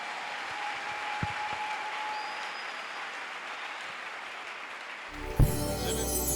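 A church congregation applauding with steady, continuous clapping that fills the space, moderately loud and evenly sustained, ending in a sudden louder burst of noise.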